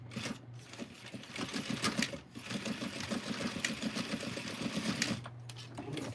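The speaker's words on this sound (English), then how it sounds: "So I'm going to just back stitch it back on." A sewing machine back stitches a belt loop in a close, rapid rhythmic chatter that runs steadily and briefly slows before resuming, with no one speaking.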